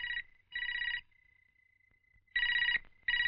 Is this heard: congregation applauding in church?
no